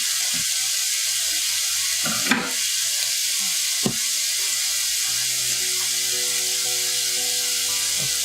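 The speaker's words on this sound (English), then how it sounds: "I'm flipping the French toast by hand now" French toast sizzling in a pan as it is flipped by hand, a constant close frying hiss broken by two sharp bumps of handling.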